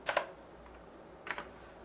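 Computer keyboard typing while entering sketch dimensions in SolidWorks, two quick clusters of close, crisp key clicks a little over a second apart, quiet room, no speech.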